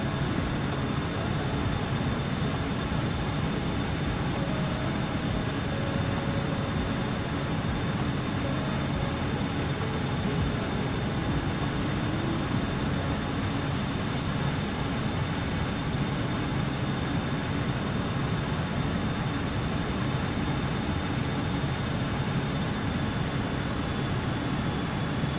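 BAe 146 jet engines drone steadily in a Microsoft Flight Simulator 2020 flight over Sweden, a constant whining hum with a thin high tone over the roar, no talking.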